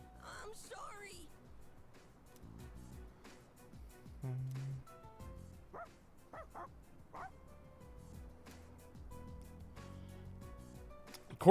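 Dog barks and yips from the Persona 3 video game, a stray dog and Koromaru, sounding as scattered short bursts over about eleven seconds, mixed with game music and effects.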